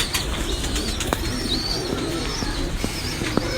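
Breeder pigeons coo softly in a loft, with low murmuring coos and a few brief sharp clicks or wing sounds over a steady background noise. No one talks.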